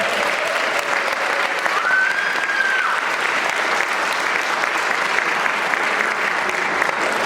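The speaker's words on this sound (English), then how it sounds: "So another round of applause for Gavin and Caleb Guidotti." Audience at a Celtic summer concert applauding, a dense, even clapping from a large crowd that carries on loudly and steadily throughout without a break.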